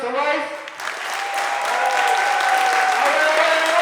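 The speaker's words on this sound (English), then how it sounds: "everybody give a round of applause for Professor Weiss" Applause from the audience at a university entrepreneurship pitch competition, steady and dense throughout with voices mixed in. A speaking voice shows over the clapping at the start.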